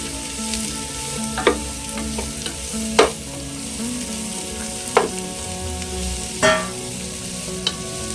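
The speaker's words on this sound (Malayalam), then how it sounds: "ഒരു 3 സവാള അരിഞ്ഞു വെച്ചിരിക്കുന്നത് ചേർത്ത് കൊടുക്കാം." Three chopped onions stir-fry in a pan for Kerala-style Yemeni chicken mandi, a steady sizzle broken by several sharp scrapes and clacks of a spatula stirring at intervals, with no speech.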